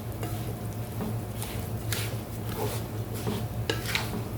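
Rice is stirred in hot oil in a pan while making koshari, giving a steady close sizzle with repeated scraping strokes of the utensil against the pan, and no voices.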